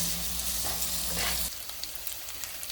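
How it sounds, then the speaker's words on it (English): Onions frying in oil for pav bhaji, a loud dense sizzle with stirring that drops suddenly halfway to a quieter crackle with occasional light scrapes, close up and with no voices. "keep cooking it and keep stirring it till you feel that the oil is actually separating from the onions"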